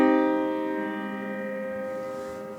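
A minor triad sounds from a music app as a single sustained chord, struck once and left ringing, slowly fading on its own with nothing else heard.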